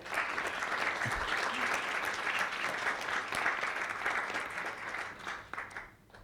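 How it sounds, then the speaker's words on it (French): Sustained applause from an audience at a round-table event in Nice, a steady wash of many hands clapping that holds for several seconds before thinning out at the end. "Je voudrais qu'on applaudisse parce que"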